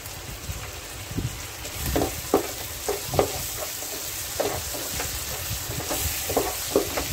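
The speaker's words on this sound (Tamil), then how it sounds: "இப்போ இது நல்லா வதக்கிக்கிங்க இந்த இஞ்சி பூண்டு பேஸ்ட் கூட." Onion with ginger garlic paste sautéing in a pan for a shark fish gravy, a steady close sizzle broken by irregular scraping stirs, with no talk.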